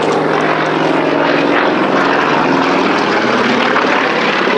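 A Yak-50 propeller aerobatic plane, originally built to train Soviet fighter pilots, drones loudly and steadily overhead during an airshow display, its engine roar continuous and close.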